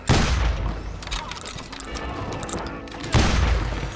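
Gunfire in the Western shooter video game Call of Juarez Gunslinger: loud bursts of shots and booming impacts open and close the passage, with a rumbling, clattering stretch between them and no clear speech.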